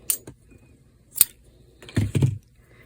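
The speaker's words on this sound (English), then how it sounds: "And then I'm going to cut the yarn." Scissors snip through yarn at a crochet fastening-off step, giving a few short dry crisp cuts close by with quiet gaps between them and no voices.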